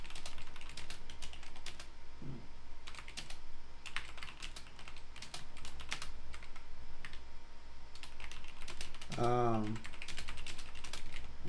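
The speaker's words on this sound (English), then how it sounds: "I'm typing some stuff up right now in the Discord" Rapid keyboard typing runs steadily throughout, close and clear, with bursts of keystrokes, a brief voiced sound near the end and a faint background hum.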